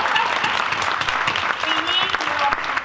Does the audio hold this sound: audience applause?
yes